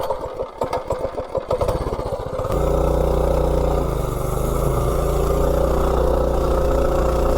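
A stock mini bike engine with an 18-tooth clutch starts with a loud, choppy idle, then roars up at about two and a half seconds into a sustained high-revving drone for a top speed run, close and steady.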